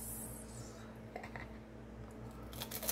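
Close, crisp crunches of biting into a fried banana roll (turon), a few sharp bites with quiet chewing between them.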